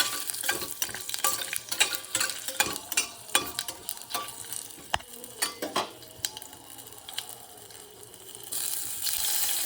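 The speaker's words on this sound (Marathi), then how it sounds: "खडा मसाला, हे आपल्याला छान परतायचं आहे." Whole spices and curry leaves frying in hot oil in a pan for Maharashtrian pea masale bhaat, with steady sizzling and repeated sharp scrapes and clinks of a spoon stirring against the pan, close and fairly loud throughout.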